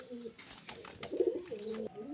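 Pigeons kept for sale coo softly at close range, a few low, rolling calls in quick succession over a quiet background.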